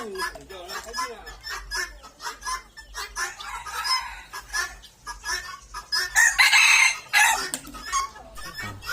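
Chickens cluck busily close by while a rooster crows loudly partway through, and people talk in the background.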